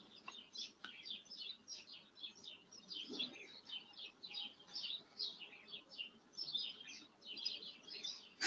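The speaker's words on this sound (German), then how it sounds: "Vielleicht hört ihr die Vögel hier im Hintergrund zwitschern." Swallows twitter steadily in the background as a continuous, moderately faint stream of quick high chirps, with no voices.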